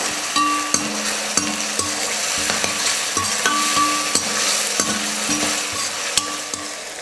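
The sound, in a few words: sautéing onion, tomato and ginger-garlic paste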